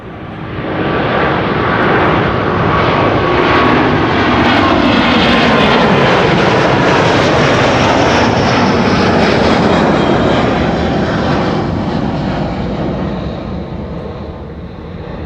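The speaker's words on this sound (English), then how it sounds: "Another one of the A350-900s" Delta Airbus A350-900 taking off from Amsterdam Schiphol's Kaagbaan runway 24, a loud sustained jet engine roar that builds and sweeps in pitch as it passes, then slowly fades, with no talk.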